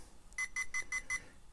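A talking wristwatch gives five short, evenly spaced electronic beeps, close and clear against a quiet background.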